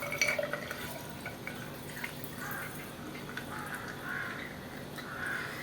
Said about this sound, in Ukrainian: Наливаємо чайок.